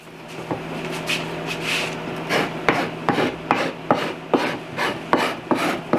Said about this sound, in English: I use the edge of the file. That's what I use to cut the banding.